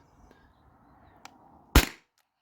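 A Beeman BP50 air pistol fires a single 1.37 gram nylon ball outdoors: one sharp, loud crack near the end, with a faint small tick shortly before and quiet background otherwise.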